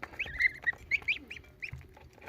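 Day-old goslings of a large mammoth goose breed peep in a quick run of high, thin calls, several chicks close by with short gaps between bursts.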